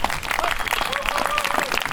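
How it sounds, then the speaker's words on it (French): An audience at a regional gathering claps for the organisers, a brief patter of hands heard under and between voices talking nearby. "on peut les applaudir ceux qui ont organisé"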